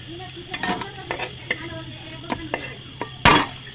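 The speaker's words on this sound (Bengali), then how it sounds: "এখন দেবো পেঁয়াজ, ভেজে নেব" Onions frying in a pan, a soft sizzle broken by repeated stirring and scraping strokes, ending in a short louder burst of hissing near the end.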